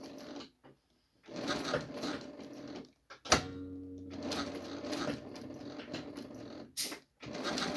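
A Singer 168W101 industrial sewing machine with reverse, set in a flat-bed or post-bed table, runs in close, loud bursts of rapid mechanical stitching separated by short pauses.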